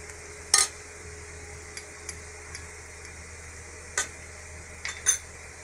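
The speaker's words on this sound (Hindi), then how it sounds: "सॉल्ट, इसको मिक्स कर लेंगे।" Capsicum and salt being stirred in a frying pan, with a few scattered spoon clinks and scrapes over a quiet background hiss.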